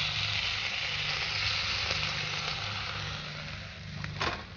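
Nigella seeds (kalo jeera) hitting hot oil in a pan for a Bengali dish, a steady close sizzle that fades slightly, with a brief crackle near the end.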